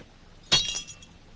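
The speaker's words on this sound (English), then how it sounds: "Does it break because it is faulty or because it is glass?" A drinking glass breaks in a single sharp crack with a short tinkling tail, fairly close and set against a quiet background.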